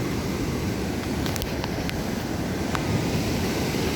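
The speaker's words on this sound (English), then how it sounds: "now that we're down on the beach, if you guys can get a better perspective of how big these waves are" Ocean surf rolling onto a beach beside a boardwalk, where sea turtles nest. A steady, close, wide roar of breaking waves blends with gusty wind buffeting the microphone. There is no talking.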